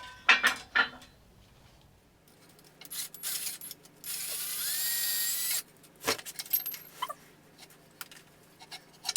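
A driver tightens the clamp on a Strong Arm centering tool, with metallic clicks and rattles followed by a steady mechanical whir lasting about a second and a half, then more scattered tapping and handling noises close by.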